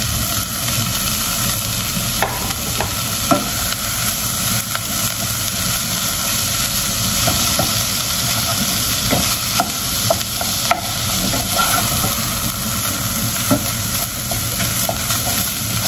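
Chicken frying with onions and garlic in a pan, a constant loud sizzle with scattered crackles and spatula scrapes from close by, with no talking.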